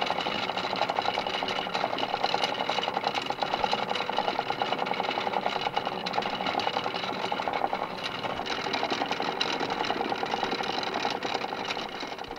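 A wooden spinning wheel twists two flax threads together, its flywheel turned in reverse for plying; a steady, continuous whirring rattle with a fast mechanical pulse runs close and fairly loud throughout, with no talk.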